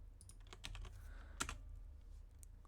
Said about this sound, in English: And then I type in my password.